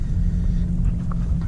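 Steady low rumble of a Hyundai Elantra N cruising on a road on a sunny day in Tennessee, heard from inside the cabin with the window up, a constant close engine and road drone with no talking.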